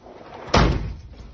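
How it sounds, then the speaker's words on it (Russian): A door is slammed shut indoors at a beach resort during a commotion with monkeys, giving one loud, close thud followed by a short decaying rumble, with no talk over it. "Закрывай двери."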